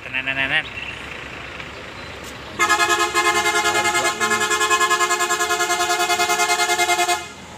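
A loud multi-tone horn on a Fajar bus on the Medan–Pekanbaru route blares in a long rapid pulsing melody after a short honk, close by and dominating the scene.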